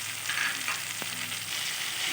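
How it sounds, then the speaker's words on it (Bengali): Goat liver frying in a spiced masala over a low gas flame, a steady close sizzle with one sharp clack of a spatula stirring midway. "মেটেটা দিয়ে আরও কিছুক্ষণ আমি এইভাবে গ্যাসের স্টিম স্লো করে কষিয়ে নেব"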